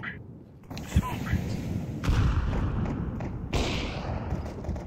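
Grenades are thrown and go off in Counter-Strike 2: muffled thuds and booms land under a continuous hiss of game sound, with a sharper hit near the start and bursts about midway, while a voice speaks over them.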